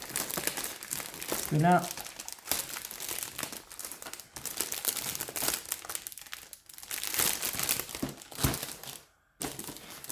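Advent calendar packaging crinkles and rustles almost continuously as it is opened, close and busy with brief tearing bursts, while a voice speaks French over it.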